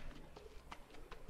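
Soft bird calls from the survival video game The Forest, a few faint cooing notes from a pigeon-like bird set against quiet ambient game sound.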